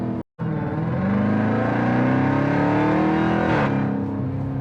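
A 707-horsepower 2018 Jeep Grand Cherokee Trackhawk accelerates hard on a bumpy East Texas back road, its engine roaring loud and close from inside the cabin and rising in pitch, with a brief cut before a distinct 1-2 gear shift near the end.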